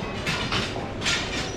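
A local train at a rural railway station rumbles steadily at close range, with a few soft mechanical swells and hisses over the continuous noise.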